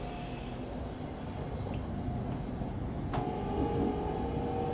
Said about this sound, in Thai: รถไฟก็ค่อยๆเพิ่มความเร็วขึ้นแล้วนะฮะ